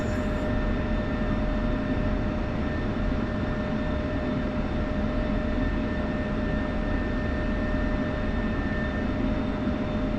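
A single-engine F-16 jet in the DCS flight simulator spools up on the runway, a steady loud roar with a high turbine whine running throughout, holding constant with no talking over it.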